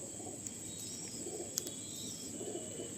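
Red eagle breed pigeon cooing softly while held in the hand, low repeated coos under a faint steady background hiss.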